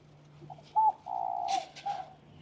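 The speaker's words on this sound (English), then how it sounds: "People got pigeons in the window" Pigeons coo from a city apartment window, a few soft low warbling calls in short phrases over faint steady street hum, with no talk.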